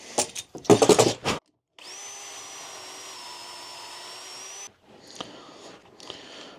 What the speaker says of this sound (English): so let's just drill an hole like that